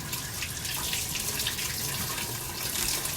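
Tap water runs steadily over a removable coffee machine part being rinsed in a sink, a close, continuous splashing hiss with no talking.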